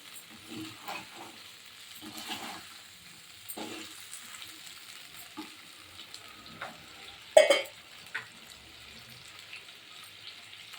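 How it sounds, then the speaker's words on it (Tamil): Brinjal pieces sauté in oil for a brinjal gravy, with a soft steady sizzle, scattered stirring scrapes and one sharp knock near the end, fairly quiet and without voices. "நல்லா எண்ணெயிலே இந்த மாதிரி வதங்கணும்."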